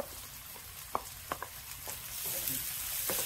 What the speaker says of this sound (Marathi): आणि कांदा ट्रान्सपरंट होईपर्यंत छान भाजून घ्यायचा।